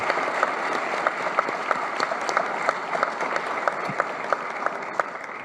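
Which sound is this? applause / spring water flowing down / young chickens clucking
applause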